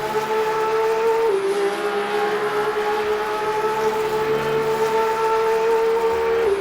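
Car 36 laps the Circuit de la Sarthe at Le Mans in Le Mans Ultimate, its engine a loud, sustained whine that dips once with a gear change and then holds steady.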